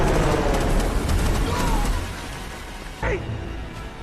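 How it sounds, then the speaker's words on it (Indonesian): Dense rattling bursts of rapid helicopter gunfire in the film Shooter (2007) with a rumbling engine drone, loud and continuous, with a sharp whooshing sweep near the end. "heli tersebut menghujani mereka dengan tembakan"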